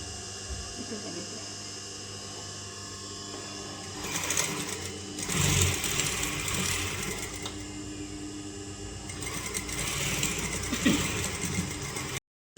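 Sewing machine stitching the joining seams of a cotton crop top, a steady mechanical whir running throughout with louder bursts as the stitching speeds up, close by, no talking.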